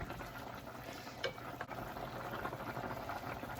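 A steady low bubbling and sizzling of wine boiling off in a pan of beef bolognese sauce, continuous and fairly faint with no talk.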